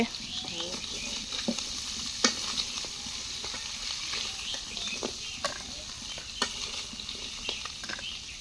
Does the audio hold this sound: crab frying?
yes